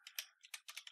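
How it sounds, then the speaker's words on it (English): Fingers type a short command on a computer keyboard in a quick burst of several light, crisp key clicks, close and quiet, with nothing else heard. "So all I have to do is type CD"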